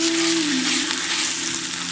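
Ground ginger, garlic, small onion and curry leaves frying in a pan, a steady loud sizzle and crackle running throughout with no talking.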